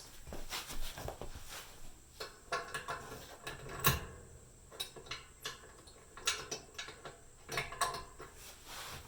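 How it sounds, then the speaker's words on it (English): A ratchet clicks in quick, uneven bursts as bolts are tightened on a Hooke Road rear bumper and custom support brackets on a Jeep XJ, with a few sharper metallic knocks. The sound is close and there is no talk. "Go ahead and tighten up the bigger bolts first and then the smaller ones."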